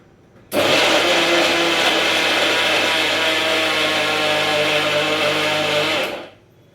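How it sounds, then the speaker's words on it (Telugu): A kitchen mixer grinder (mixie) runs for about five and a half seconds while making ragi laddus, giving a loud, steady high-pitched whir that starts abruptly and cuts off sharply, heard alone. "అలాగే మిక్సీ పడుతున్నాను"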